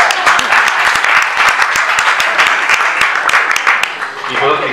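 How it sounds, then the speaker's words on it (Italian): An audience at a political meeting breaks into dense, continuous applause, with many sharp claps sounding near and loud. "è un applauso"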